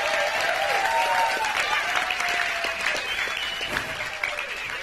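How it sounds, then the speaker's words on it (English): An audience at a community event applauds warmly and steadily, a dense clapping that fades a little toward the end, with a faint tone lingering underneath. "Let's give him a round of applause."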